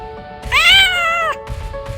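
A black cat gives one drawn-out, wavering meow, loud and close, over a faint steady hum, followed by soft low rustling.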